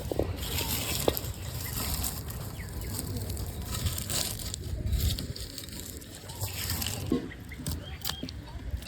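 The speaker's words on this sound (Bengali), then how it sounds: "এবার মরিচটাকে চিটকিয়ে নেব।" Dried red chilies are crushed by hand with salt for an onion mash, giving a continuous close, gritty crunching and squishing with irregular crackles and soft rustles.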